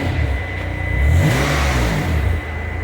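A 1993 Mitsubishi 3000GT V6 revs after a tune-up, the engine note climbing and falling in a close, loud rev before settling back toward idle.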